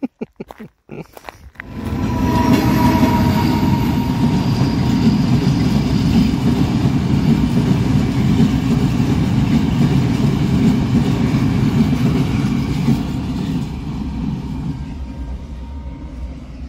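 A train rumbles past close by after a few sharp clicks, a loud continuous roar and rattle that holds steady, then eases slightly toward the end.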